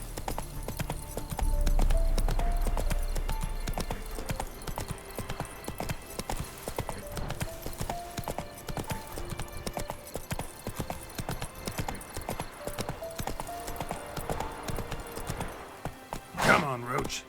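In The Witcher 3, the horse Roach gallops with a steady rhythmic clip-clop of hooves lasting throughout, moderately loud, with a brief snort or whinny near the end.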